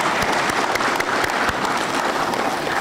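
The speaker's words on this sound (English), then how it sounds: "Please join me in giving a round of applause to Engineer Tony Givenchy" Steady applause from a graduation ceremony audience greeting Engineer Tony Givenchy, dense and continuous throughout with a few sharper claps standing out near the front.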